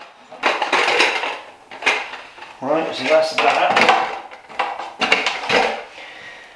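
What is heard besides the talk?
camping cooking tins, kettle and pans being handled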